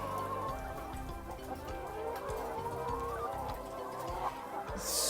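Chickens cluck continuously throughout a poultry farm house fitted with nipple drinkers, a dense, steady flock murmur of overlapping calls at moderate, even loudness with no talking.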